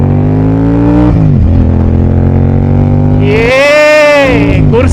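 A Royal Enfield Super Meteor 650 fitted with an aftermarket exhaust idles with a deep, steady rumble, then is revved hard in a rising and falling blip, loud and close.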